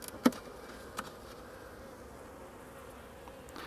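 Honeybees buzz steadily at an open beehive in an apiary, a dense continuous drone close by, broken by a couple of faint clicks from hive tools or frames.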